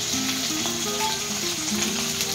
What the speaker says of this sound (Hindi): अब इसमें हम डाल देंगे प्याज।